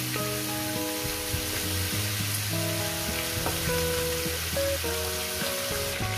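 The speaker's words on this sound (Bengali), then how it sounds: "আমি কিভাবে মাছের মাথাটা ভেজে নিচ্ছি।" Katla fish heads fry in a pan with a steady, close crackling sizzle that runs throughout, with tonal background music beneath it.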